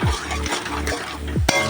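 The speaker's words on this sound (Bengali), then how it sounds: "তো দিয়ে মশলাটা ভালো করে একটু কষে নেব।" A spoon stirs chili powder, turmeric and salt masala in a hot pan, with gentle frying sizzle and a few scraping strokes against the metal, close and fairly quiet.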